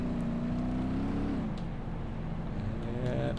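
A car in the BeamNG Drive driving game hums steadily with its engine note holding, then dropping as it slows, a close, continuous whir with no talking over it.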